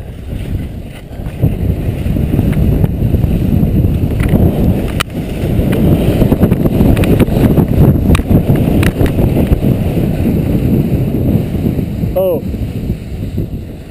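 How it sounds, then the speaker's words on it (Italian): Strong wind buffeting the microphone on a mountain summit, a loud, continuous roaring rumble with gusty swells across the whole stretch. "Allora ragazzi, c'è vento su, eh!"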